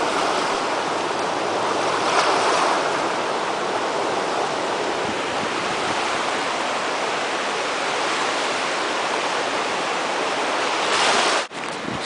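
Roaring, steady rush of the flooded Passaic River's current near the Great Falls, loud and continuous white-noise wash with a brief dip near the end, no talking.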